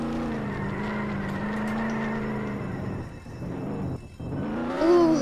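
Tesla-like car driving in the Roblox game Jailbreak, a steady synthetic engine hum that dips briefly then rises again with a higher whine, moderately loud and alone.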